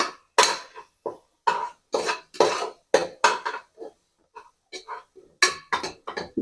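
A spoon stirs chicken masala in a cooking pot, giving repeated scraping clinks of metal on metal in an uneven rhythm, close and fairly loud, with a brief pause midway.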